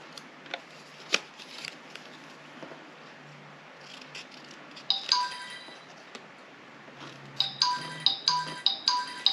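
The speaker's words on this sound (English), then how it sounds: "Oh my goodness, I'm getting lots of notifications." Short bright phone notification chimes ring out in quick clusters, several in a row near the end, over quiet crafting noises and faint rustling; moderately close, no talking.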